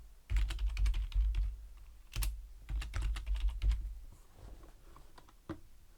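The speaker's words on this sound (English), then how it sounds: "And we'll type in coming soon." Text being typed on a computer keyboard, with close, quick bursts of key clicks, brief pauses between runs, and a single louder keystroke near the end.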